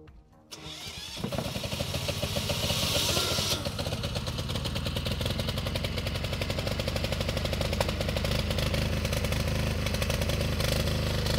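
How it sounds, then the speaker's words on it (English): A boat generator, used to supply a newly built AC circuit on a vintage yacht, cranks and catches, then settles into a loud, steady mechanical running drone that continues without a break. "now it's time to start the generator"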